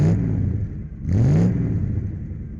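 A 1985 Daimler 4.2, the Jaguar XJ6 Series 3 saloon, revs its engine twice in short succession, each rise a smooth mid-pitched surge that then settles back to a close, steady idle hum.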